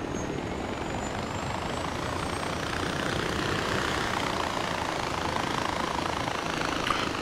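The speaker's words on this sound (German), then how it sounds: "Und jetzt ist auch der Helikopter da, auf den ich gewartet habe" A helicopter in the Far Cry 4 video game drones steadily with dense rotor and engine rumble, loud and continuous throughout, with no talking.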